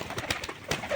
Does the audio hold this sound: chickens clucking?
no